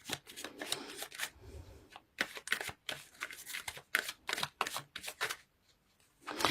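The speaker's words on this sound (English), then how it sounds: "So let's pull few cards to clarify situation from Gildred." Tarot cards are shuffled and pulled by hand in a series of quick, crisp riffling bursts with short pauses between them, close and fairly quiet.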